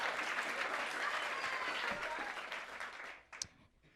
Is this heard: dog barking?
no